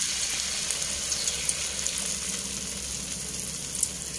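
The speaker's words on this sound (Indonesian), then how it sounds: "minyak pun dah panas, kita goreng." Battered eggplant slices fry in hot oil, giving a steady, fairly quiet crackling sizzle with small pops throughout and no voices.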